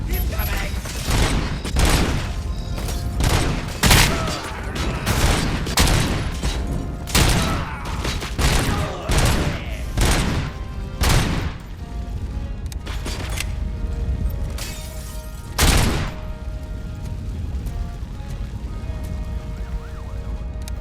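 Gunfire from Robocop: Rogue City in a hostage standoff: loud, punchy single shots land in an irregular stream, sometimes in quick pairs, over a steady background din. A voice speaks now and then between the shots.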